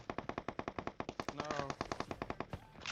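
Rapid automatic gunfire in the mobile battle royale game PUBG Mobile, a fast steady burst of about two dozen shots filling the whole stretch, loud and close with a brief pause near the end.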